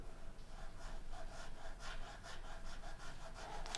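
A small file or nut saw cuts the string slots of an electric guitar nut a little deeper, making steady, rapid back-and-forth rasping strokes that are close but faint and heard on their own.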